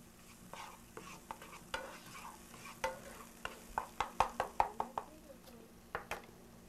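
Pork cubes cooking in a pot, a quiet sizzle beneath a run of rhythmic knocks and scrapes from stirring, close and fairly soft, with a burst of regular taps in the middle.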